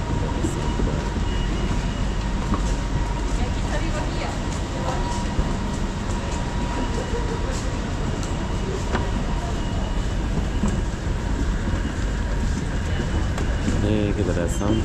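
Steady rumble and rattle of an LRT light rail train riding from KL Sentral to KLCC in Kuala Lumpur, a continuous droning ride noise with faint clatter and some voices underneath.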